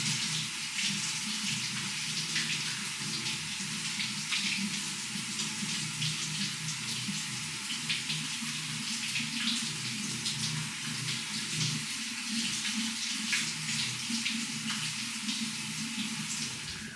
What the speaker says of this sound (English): I wanted you guys to hear what it sounds like after you wash your fruits with vinegar